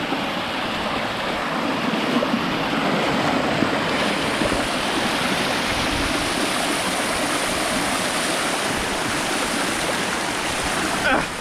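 River water rushes steadily over rocks in St. Mary, Jamaica, a loud continuous broadband flow close by with no pauses, filling the whole stretch.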